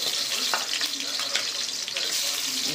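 Onions frying in a pan with garlic, a continuous bright crackling sizzle close up with small stirring noises, a faint voice now and then.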